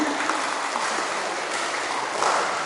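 Audience applause at an Isra Miraj religious talk show, a steady broadband wash of clapping that holds at an even level throughout with no distinct individual claps standing out.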